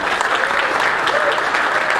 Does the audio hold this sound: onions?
no